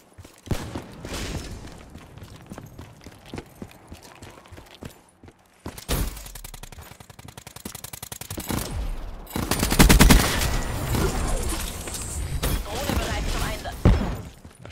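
Automatic gunfire rattles through a Call of Duty: Black Ops 3 multiplayer match on PS4 in rapid bursts, breaking off briefly before a heavier, sustained volley with sharp impacts, loud and close, with faint player chatter underneath.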